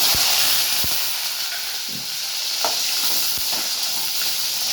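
Garlic, about 100 grams of peeled cloves, goes into hot oil with cumin for a garlic and curry leaf kuzhambu, giving a steady loud hiss and sizzle with a few sharp clinks of a spoon against the pan.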